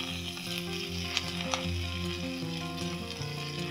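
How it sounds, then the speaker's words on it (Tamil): Fresh drumstick leaves hit lightly heated coconut oil in a pan, giving a loud, steady sizzle with a couple of sharp pops. "லேசாக எண்ணெய் சூடானதுமே போட்டுருணும் முருங்கைக்கீரையை."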